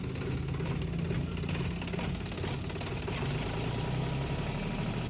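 A Sonalika diesel tractor engine runs steadily after its diesel filter was serviced, giving a continuous low knocking rumble with a rapid even rhythm, close and unbroken throughout, with no talk.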